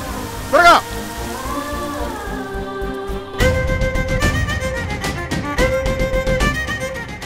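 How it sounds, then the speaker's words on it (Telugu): Heavy rain pours down during a cyclone on the coast at Yanam, a steady broadband hiss under loud tonal music, with the downpour growing denser and fuller after the first few seconds. "తుఫాన్ తీరం దాటుతుంది"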